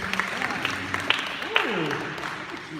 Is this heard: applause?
yes